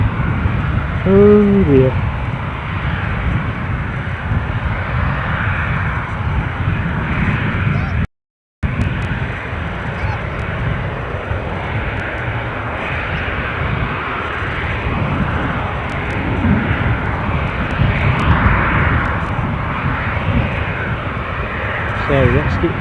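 An airliner takes off from Edinburgh airport, its engines a loud, steady broadband roar lasting nearly the whole stretch, with one brief dropout midway and a short spoken exclamation near the start.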